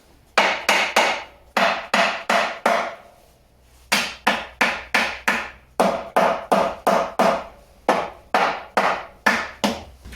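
A hammer taps on a TVR 290 S gearbox part during a clutch and gearbox seal job: close, sharp metallic knocks in quick bursts of three to five, with brief pauses between groups.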